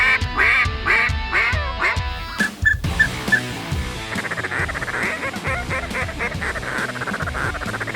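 A dense, loud chorus of ducks quacking close by, nonstop, with some honking calls mixed in.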